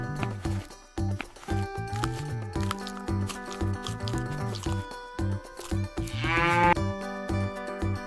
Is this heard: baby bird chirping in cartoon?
no